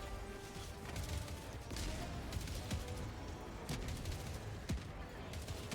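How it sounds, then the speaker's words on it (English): Mortar fire in the Helldivers game, soft distant thuds and crackling blasts scattered over a dense, low battle rumble, with a few sharper impacts standing out. "the mortar's putting in work until someone eventually breaks it"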